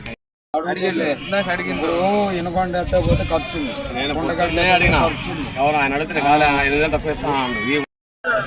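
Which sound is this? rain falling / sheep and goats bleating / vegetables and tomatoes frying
sheep and goats bleating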